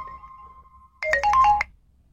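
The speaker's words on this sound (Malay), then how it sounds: "ada orang telefon" A telephone rings in an office, a short electronic melodic ringtone of several quick notes following a faint steady tone, close and clear with no talking over it.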